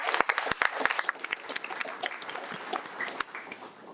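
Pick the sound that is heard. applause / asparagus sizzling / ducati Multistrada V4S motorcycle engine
applause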